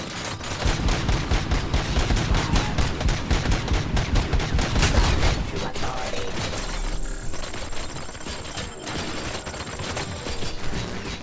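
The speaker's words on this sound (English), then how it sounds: "for a bunch of robots that are basically carrying Uzis, they sure shoot pretty well" Rapid bursts of automatic gunfire from robots wielding Uzi-style submachine guns in RoboCop Rogue City rattle continuously, dense and loud at first, then thinning into scattered shots with mechanical clatter.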